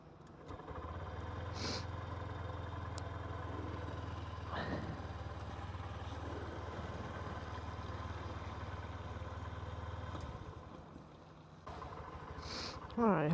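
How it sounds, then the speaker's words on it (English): A motorcycle engine idling in neutral with the kickstand down, a low steady rumble running close by for about ten seconds before cutting out, with some voice-like sounds over it. "I'm in neutral. The engine's running."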